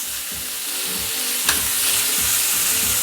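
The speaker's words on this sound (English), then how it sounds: "it's sauteing for another 2 minutes on this side" Spicy citrusy dill shrimp sauté in a hot pan with a steady, close sizzle and a soft low rumble, plus one brief sharp tick partway through.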